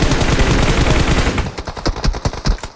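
Rapid video game gunfire: a dense, sustained burst of shots that thins into distinct, separated cracks, loud and close, with no talk.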